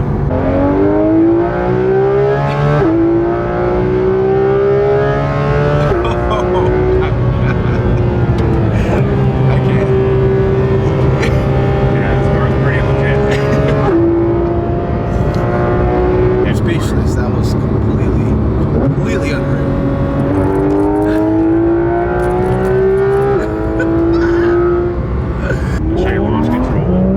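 A Porsche 911 GT3 RS engine drones loudly and steadily while driving, its pitch rising and falling through gear changes, with someone talking over it throughout.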